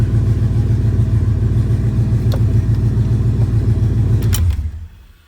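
A LS-swapped Chevy OBS truck engine runs loud and close with a steady, throbbing idle, then cuts off abruptly near the end, leaving a brief quiet.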